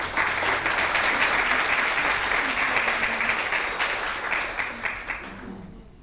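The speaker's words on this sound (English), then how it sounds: "I think maybe another round of applause just to say." A hall audience at a community centre's anniversary celebration gives a sustained round of applause, steady dense clapping that lasts several seconds before gradually thinning out and fading.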